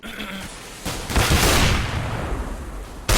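Bursts of gunfire in a Counter-Strike LAN match on Inferno, loud sharp shots with a sustained noisy crackle between them and another abrupt shot at the end.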